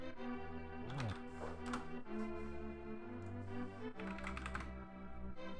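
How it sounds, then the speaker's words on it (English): Rapid clicking of keys on a computer keyboard and number pad, typed in short bursts at moderate volume beneath steady electronic game music. "I was just typing in a thing"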